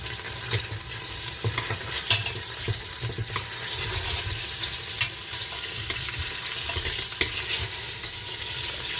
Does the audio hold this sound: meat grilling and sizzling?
yes